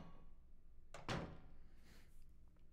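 A door in the video game Silent Hill 2 opens with a single heavy thunk and a brief scraping swish, followed by faint creaks against a quiet ambient hum.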